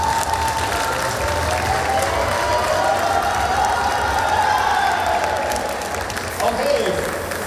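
An audience claps and cheers at a cosplay contest award ceremony, a dense, loud wash of applause that runs steadily throughout, easing slightly near the end.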